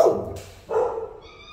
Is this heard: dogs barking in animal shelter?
yes